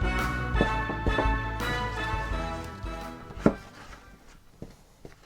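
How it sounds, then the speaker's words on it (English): Spiced apple cake batter being gently mixed in a bowl, with irregular soft taps and scrapes of the utensil against the bowl, fairly close and over steady background sound. "just keep mixing until, just gently mixing until it all comes together"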